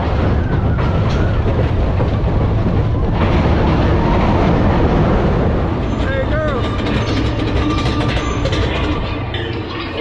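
The Big Thunder Mountain Railroad roller coaster train at Magic Kingdom rattles and clatters along its track with a continuous rumbling roar, screeching metal squeals rising partway through.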